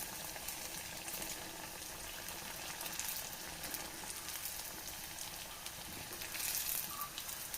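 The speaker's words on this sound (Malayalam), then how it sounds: "ഇനി ആ സൈഡും ഒന്ന് ഫ്രൈ ആയി വരുന്നില്ലേ" Banana fritters (pazham pori) frying in oil, a steady soft sizzle and fine bubbling crackle heard close and continuously, slightly louder near the end.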